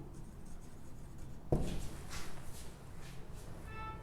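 Marker or chalk writing on a classroom board during a maths lesson on heights and distances: a sharp tap as the tip meets the board, then a run of short, scratchy strokes, close and fairly quiet.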